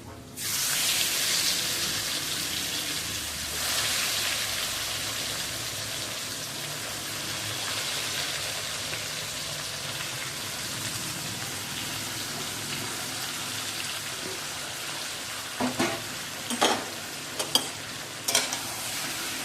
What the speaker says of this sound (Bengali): এবারে ম্যারিনেট করা মাংসটা আপনার দিয়ে দেবো।